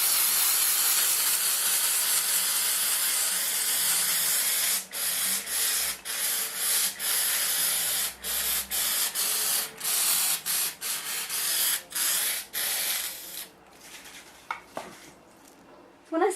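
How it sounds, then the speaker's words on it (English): An aerosol can sprays paint onto cut MDF pieces in a long continuous hiss, then in a run of short bursts broken by brief pauses, loud and close, with no voices. "I'm going to spray the very top edge here and the two sides on either side."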